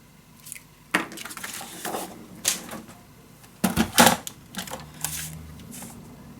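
Scissors snip through paper to make a junk journal frame, producing sharp, irregular crisp cuts and rustles up close, with a cluster of louder snips near the middle.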